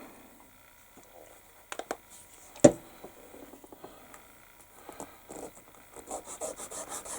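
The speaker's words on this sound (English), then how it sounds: "And just sand across the top." Wet sanding of small resin model engine parts with a sanding pad gives quiet, close rubbing and gritty scraping strokes, with a few sharp ticks and a denser run of rhythmic rubs toward the end.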